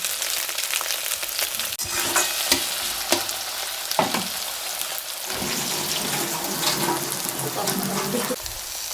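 Ginger and spices fry in a pan with a close, dense crackling sizzle, broken by sharp spoon scrapes and knocks as the mixture is stirred steadily throughout.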